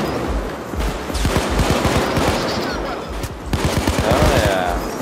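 Rapid automatic gunfire in the Payday 2 video game, dense bursts of shots crackling close and loud throughout, with brief pauses between volleys and a voice talking underneath.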